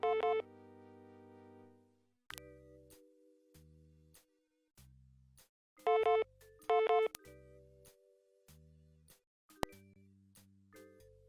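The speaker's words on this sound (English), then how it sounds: "Sounds like I got a message on the vid phone." A vid phone ringing with a message in the video game Tex Murphy: The Pandora Directive: a quiet run of synthetic electronic tones and chimes in a stepping, stop-start pattern, with no voices.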